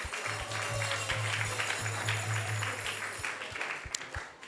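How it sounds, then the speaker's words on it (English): Steady audience applause at a Krishna Katha gathering at ISKCON of Silicon Valley, continuous clapping at moderate level with a low steady hum beneath it. "Let's give him a big round of applause."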